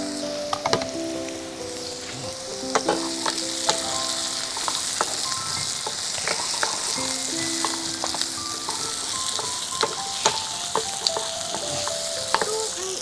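Steady, continuous sizzle of seeded cucumber pieces frying in a hot pan, with scattered crackles and pops throughout, fairly close and even in level, with no talking.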